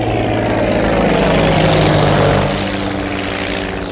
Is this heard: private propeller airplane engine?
yes